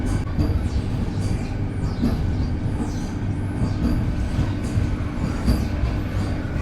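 A Vande Bharat Express train runs and picks up speed from Delhi toward Khajuraho, a steady loud rumble of wheels and carriage noise with faint rhythmic clicks throughout, no talking.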